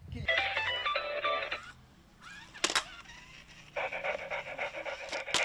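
Robotic remote-controlled toy stunt dog panting in rapid electronic bursts, loud and close, with a brief pause and a sharp click midway before the panting resumes.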